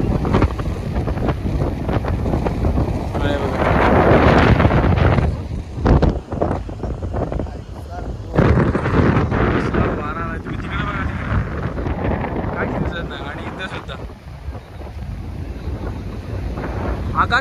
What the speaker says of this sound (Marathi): किती खतरनाक फुल वारा आला फुल एकदम बोलताना एकदम जोरात आलाय